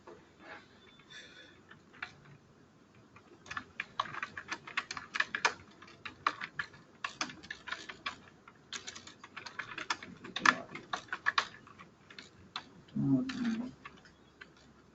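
Keyboard typing during an online software training session, with bursts of rapid keystrokes rising and falling over about fifteen seconds, fairly close and moderately loud, with a brief low thump near the end.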